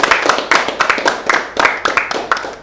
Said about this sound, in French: je vous prie d'applaudir pour l'accueillir